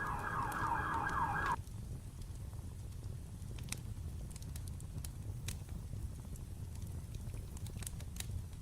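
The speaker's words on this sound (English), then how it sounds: "It's a lot of sirens." An emergency vehicle siren wails loudly for a moment, then cuts off abruptly, leaving steady low rumbling background noise with scattered faint clicks.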